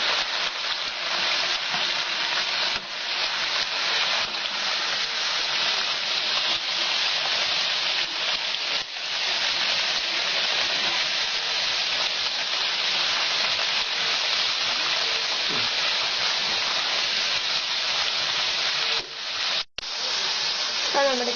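Sliced plantain (banana) pieces deep-fry in hot oil for chips, producing a dense, even sizzle and hiss that holds steady and close throughout.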